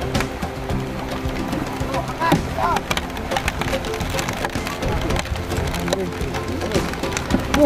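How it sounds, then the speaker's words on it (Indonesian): Heavy rain falls outdoors during a fishing trip, a dense steady patter with scattered sharper drops, while people talk over it. "Ini hujannya gede ya soalnya."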